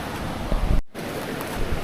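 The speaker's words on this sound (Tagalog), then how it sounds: "Ganda ng tubig oh. May malakas yung agos." Strong current of a river swollen after rain, near Puerto Princesa, a steady broadband rushing of water with a brief dropout midway.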